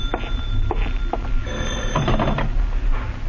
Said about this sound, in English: and then the phone startles you.